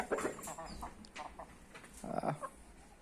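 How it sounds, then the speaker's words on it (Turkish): A broody hen clucks in short, soft bursts among a flock with an Asil-type rooster, several quiet clucks spaced irregularly over a few seconds. "Aa gurk yapıyor ha. Tavuk gurk oluyor."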